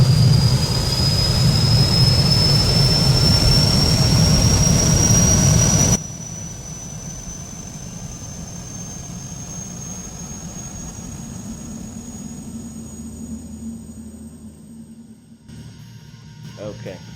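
Simulated Beechcraft C90 King Air turboprop engines run after starting in X-Plane 11: a loud, steady droning roar with a rising high whine, dropping to a quieter hum partway through and continuing steadily.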